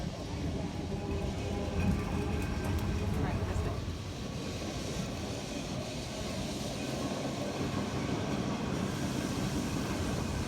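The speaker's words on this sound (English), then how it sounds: "So the number 28 streetcar, or tram as many may call it, is super famous in Lisbon" A famous number 28 streetcar rolling through Lisbon, with a steady low rumble of wheels and motor filling the ride and a brief louder rattle early on, while people talk faintly over it.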